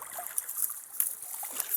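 A sandy-bottomed creek trickles and flows steadily, a faint, soft wash of water with small bubbling spots and no voices.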